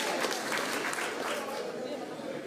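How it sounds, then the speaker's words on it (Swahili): A crowd claps steadily through the whole stretch at an outdoor opposition political rally held at an Anglican church in Murang'a, with a voice speaking over the dense applause. "pigia makofi"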